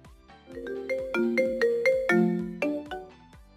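Marimba ringtone playing from a phone, a bright melodic run of struck wooden-bar notes with ringing decay, moderately loud and close, with no voices.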